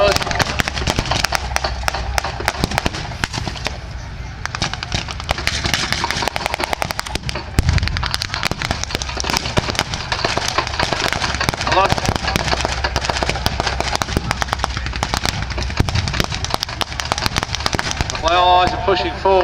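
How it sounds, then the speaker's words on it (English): Artillery barrage explosions at a wartime reenactment, a dense, loud and continuous roar of booms and crackling bangs packed together with no pause. "It would appear as though the Germans are falling back under an artillery barrage"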